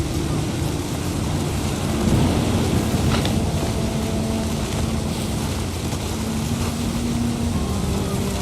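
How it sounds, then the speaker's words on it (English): Thunder rumbles as a low, continuous roar amid a wind and sea ambience in the video game What Remains of Edith Finch, one heavier swell standing out partway through. "Thunder sounded much too close and full of angry power"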